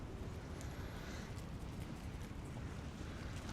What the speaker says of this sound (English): The wind is starting to get up.